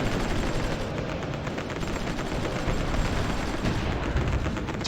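Continuous rumbling barrage of artillery fire in the strategy game Supreme Ruler Ultimate, dense overlapping booms and crackle forming a steady wall of noise throughout, with no voices.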